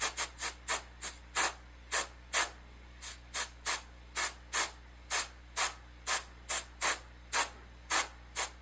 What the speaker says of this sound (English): I'll take a couple of kind of practice sprays